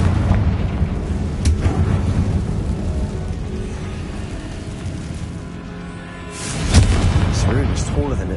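Confringo fire spell explosions in Hogwarts Legacy, a rumbling blast early, a quieter stretch, then a sharp loud burst near the end with crackling tail.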